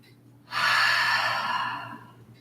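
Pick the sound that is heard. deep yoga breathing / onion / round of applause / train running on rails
deep yoga breathing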